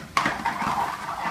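A spoon clatters against a pan as butter chicken gravy with cashew paste and kasuri methi is mixed, starting with a sharp metallic clink and followed by close, scraping stirring sounds.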